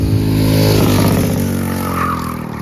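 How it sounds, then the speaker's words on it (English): A racing kart entering turn 1, its engine loud and close with a sustained high whine while the tires scrub and skid through the corner, fading slightly at the end. "That classic skid mark sound you just heard is actually hurting my race times."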